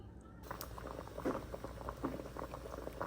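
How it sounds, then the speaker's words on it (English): Salted water boiling in a pot on the stove, a quiet steady bubbling and popping at close range with irregular soft blips, no voices. "washed and ready to boil with a few pinches of salt"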